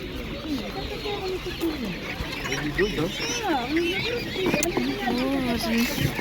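Ducklings at a busy outdoor market give a steady run of high, wavering peeps and chirps, close and fairly loud, with people talking nearby throughout.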